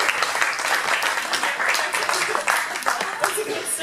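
Audience applause at a Eurovision 2015 meet and greet in Ireland for a singer, a dense, steady wash of clapping lasting several seconds with voices mixed in.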